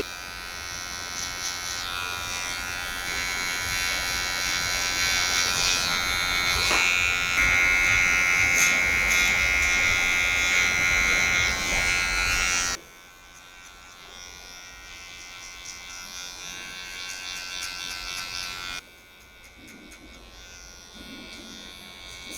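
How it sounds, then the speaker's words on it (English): An electric hair trimmer cutting a taper on short hair, a close steady buzz with a sustained higher whine in the middle, changing tone as the blade meets the hair, then dropping quieter twice as it moves. "Just using the corner of our trimmer just to sharpen it off a little bit."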